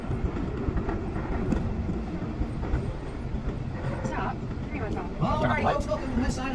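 A train rolls through a tunnel under Missionary Ridge in Chattanooga, a loud, enclosed rumble with rattling wheels and car noise throughout, while people talk over it.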